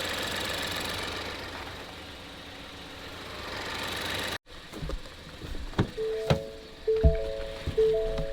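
A Ford Fusion engine turns over roughly, with a steady rumble that cuts out abruptly. After it stops, scattered clicks and knocks sound close by.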